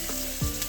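Chopped onion and vegetables dropped into a little oil in a pan for fish moli give a brief, faint frying sizzle, with a soft thump as they land.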